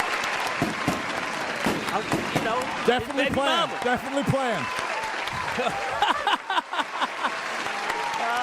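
Crowd applause and cheering at a sports talk show, a dense wash of clapping that swells and fades while several people talk and laugh over it up close.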